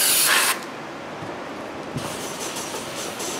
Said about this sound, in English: we're going to clean up the face right here with brake cleaner